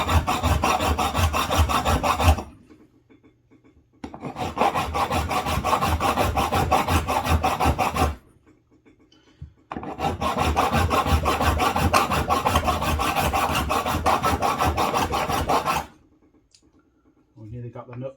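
A file rasps across the threads of a bolt on a Yanmar 2GM20 sea water pump aboard a boat, in three sustained close scraping runs separated by short pauses.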